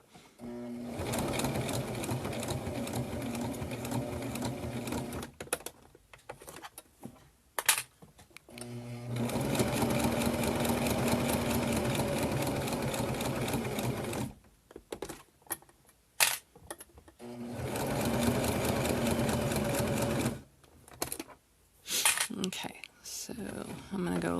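A sewing machine stitches a small mini wallet in bursts, running fast in long stretches with pauses for turning at corners, while someone talks quietly between runs.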